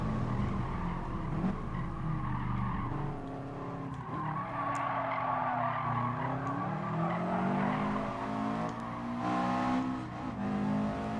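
A Subaru Impreza Coupe WRX Type R STI Version VI race car in Gran Turismo Sport holds a steady, droning engine note with sustained tire squeal and pitch sweeps as it corners, loud and continuous with no talking.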